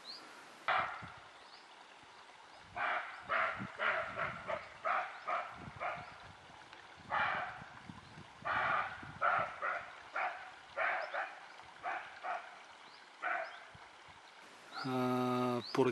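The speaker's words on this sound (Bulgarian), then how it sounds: "избяга, скри се в гъстата борова гора и започна да лае по някакъв много странен начин" A startled animal hidden in a dense pine forest gives a long series of rough, strange barking calls in uneven bursts, moderately distant, with a brief tonal sound near the end.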